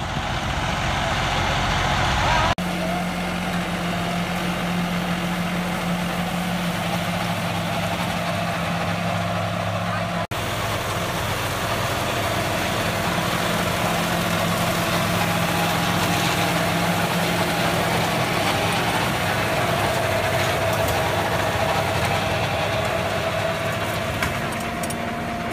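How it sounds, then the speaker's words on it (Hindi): Tractor engine idling steadily, a continuous low, heavy diesel rumble that stays close and even throughout without speech. "ट्रैक्टर भाई दा चल रहा"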